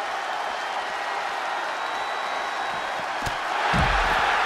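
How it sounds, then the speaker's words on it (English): A wrestling arena crowd in WWE 2K24 roars in a sustained, dense wash of cheering, with a couple of sharp slams and a swell of noise toward the end. "A deafening cheer from the WWE Universe is reverberating around us."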